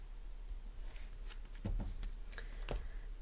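Tarot cards are shuffled for a reading, giving soft close riffling bursts and brief slaps over a quiet background hiss, alone with no talking.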